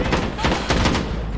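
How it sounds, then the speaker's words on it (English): A rapid burst of several video game gunshots rings out in quick succession, loud and close, with game-style echo and a voice faintly underneath. "It's the gunshot."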